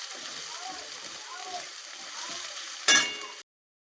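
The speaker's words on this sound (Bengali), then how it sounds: "এবার পেঁয়াজটাকে ভালো করে ভেজে নেব।" Onions fry in a pan for a Bengali rui fish-head moong dal, giving a steady hissing sizzle under a person talking. A brief splashing clink bursts out just before the sound cuts off.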